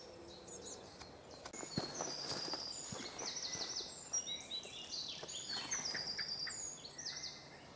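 Birds sing and chirp throughout a wood called Coed Mawr, several faint calls overlapping, with soft footsteps crunching along a path beneath them.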